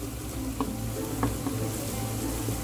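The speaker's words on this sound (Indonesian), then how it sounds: "Ditumis sampai aromanya harum" Garlic, ginger and chili sauté gently in oil over low heat, giving a soft constant sizzle with a few faint stirring taps, near and unbroken by speech.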